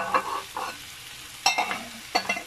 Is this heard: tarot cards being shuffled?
no